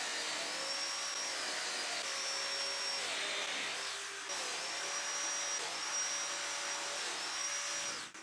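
A Festool Domino joiner cuts mortises in MDF panels, its high motor whine starting and stopping in repeated bursts of about a second each, close and loud.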